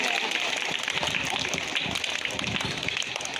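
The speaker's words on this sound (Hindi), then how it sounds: "तालियां बजती रहनी चाहिए।" Applause from a crowd of children and guests at a school Independence Day celebration, a dense steady patter of clapping lasting throughout, with some voices mixed in.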